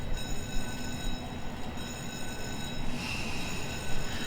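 A diesel train idles and rumbles in the Run 8 train simulator game, a steady low drone with faint metallic squeal and rattle, loud and continuous with no talking.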